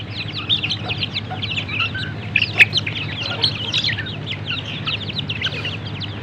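Chicks of a white chicken breed pecking at starter feed, with a steady stream of soft high cheeps and chirps close by, one sharper peep standing out, over a low background hum.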